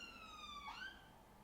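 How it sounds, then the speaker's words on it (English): An ambulance siren passes outside, a faint wailing tone that sweeps and drops in pitch as the vehicle goes by, heard at a distance from indoors. "We'll forgive it because it's an ambulance."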